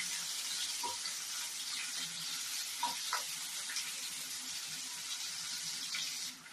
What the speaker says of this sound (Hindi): थोड़ी देर में प्याज भूनूंगी